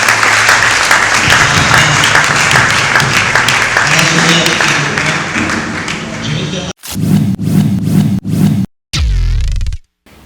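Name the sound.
congregation applauding for the Lord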